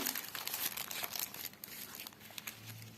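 Paper surprise packet holding Num Noms toys crinkles and rustles steadily near the mic, with crisp crumpling bursts and no voices.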